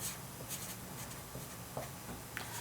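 Pen or marker scratching across paper or a board while an equation is written out, soft irregular strokes and taps, close but faint over a low background hum.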